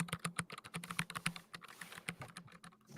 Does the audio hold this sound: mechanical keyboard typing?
yes